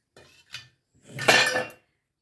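Ground batter and rice flour go into a bowl in a kitchen, heard as a few light clinks of a utensil against the bowl followed by a longer scraping, clattering stretch, close and with no talking.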